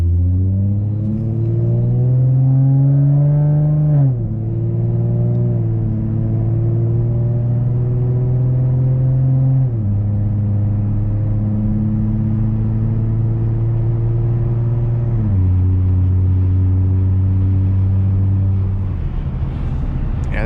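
A 2014 Ford Mustang Premium V6, 3.7-liter with six-speed automatic and Roush exhaust, drones loudly and steadily as it drives, its pitch climbing through each gear then dropping at three shifts.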